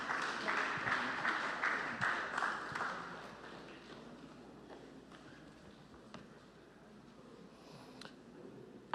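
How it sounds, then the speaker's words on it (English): Delegates at an advertising association's annual general meeting in Nigeria clap for a speaker, a fairly faint, brisk round of applause that fades over a few seconds into sparse scattered claps and room noise. "Please, a round of applause, delegates, for Mr. David Okeme, Executive Director at System Specs."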